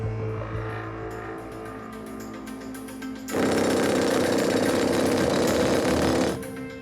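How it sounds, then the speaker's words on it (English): A rock drill bores a hole into rock to take an explosive charge, a loud continuous hammering roar starting abruptly and running for about three seconds over a lower background rumble. "You're going to drill an hole and then you put your charge in."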